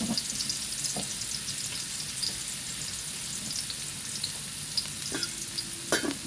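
Ginger sautéing in a pan for a Filipino mussel tinola, a soft, steady sizzle with a few clinks of a spatula against the pan near the end and no talking.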